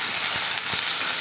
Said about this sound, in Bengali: বেশি না, হালকা করে ভাজবো।